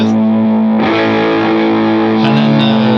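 An electric guitar runs through a drive pedal and ambient effects, playing loud sustained distorted chords with a new strum near the start and a shift in the chord toward the end, alone and up close.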